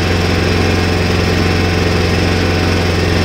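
A hybrid golf cart's add-on gas engine runs steadily, driving an alternator system that charges the cart and puts out 114 volts AC, giving a continuous close, loud drone with a throbbing low hum and no talking.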